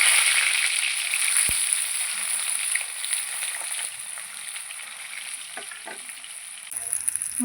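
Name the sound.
chitol fish muitha dumplings frying in oil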